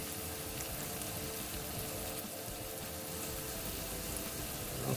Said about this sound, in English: can you hear that bacon frying?